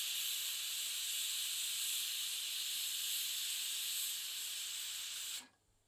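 A pressure cooker on the stove, cooking chicken curry, lets out steady, sharp steam hiss for about five seconds before it cuts off abruptly. No voices are heard.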